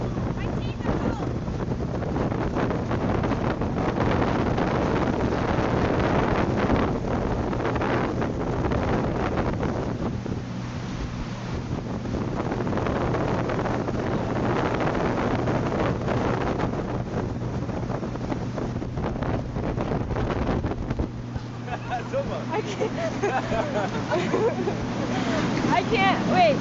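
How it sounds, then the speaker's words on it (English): Strong wind buffets the microphone high on the Stuttgart TV tower, a steady roaring rush with gusts that runs the whole time, while people talk and shout over it. "It's windy over here."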